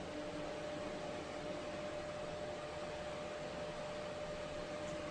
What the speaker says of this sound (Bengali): দেখুন বন্ধুরা, এখানে ভাত ফুটছে